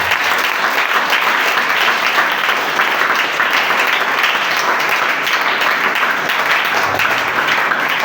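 A church congregation applauds the king, a dense, loud and continuous wash of clapping from many hands that holds steady for the full stretch.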